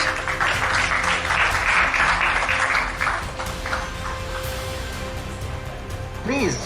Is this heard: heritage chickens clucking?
no